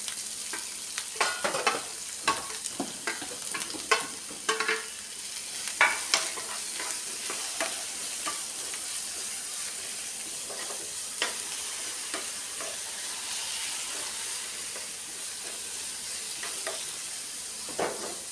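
Onions fry with ginger, garlic and green chilli in a pan, a constant close sizzle broken by frequent scraping stirs and clatters, busier early on and then settling into a steadier hiss.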